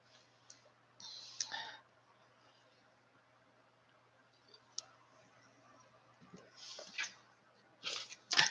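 Tarot cards being shuffled give bursts of crisp riffling and clicking, a few quick runs separated by quiet pauses, close up.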